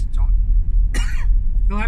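During a morning commute in a car, a single short cough or throat-clear sounds close to the microphone over steady low road rumble, with brief speech fragments around it.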